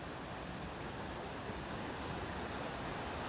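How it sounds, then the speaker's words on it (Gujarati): River water rushes and gurgles steadily beneath the Pont-y-Pair bridge in Snowdonia, Wales, a dense, even wash of sound heard close with no voices over it. "એકદમ મસ્ત નેચરલ અને પાણીનો ખળખળ અવાજ જે તમે સાંભળી શકતા હશો"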